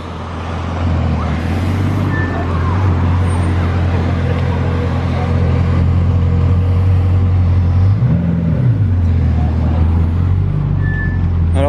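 A green Bugatti Chiron Sport idling nearby, a steady low engine drone with a brief swell in the middle, set against surrounding street noise.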